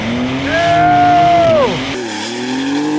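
A Gunther Werks Speedster supercar launching hard, its engine note climbing loudly through the revs, then dropping sharply at a gear change before rising again, close and dominant.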